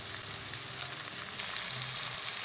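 Fried chicken pieces sizzle in a pan of okra and onion cooking with garlic and ginger, a steady close frying crackle that swells slightly as the chicken goes in, with no talking.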